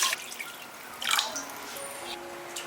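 Water is poured into a soup pot, giving a splashy, dripping trickle that swells briefly and then settles into a softer running flow with faint ringing tones.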